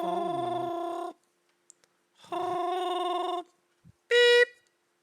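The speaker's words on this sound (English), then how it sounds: "Piper, pick up the phone, mom." A telephone rings in long electronic bursts separated by silent gaps, loud and close, ending with a brief higher beep.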